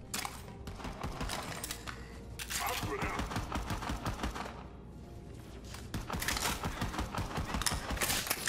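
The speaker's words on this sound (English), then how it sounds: "Who's shooting?" Rapid gunfire in Borderlands 3 crackles in dense, repeated bursts, loud and close, with short pauses between volleys and voices talking over it.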